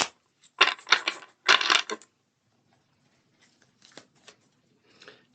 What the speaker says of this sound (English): Just gonna get these all shuffled here.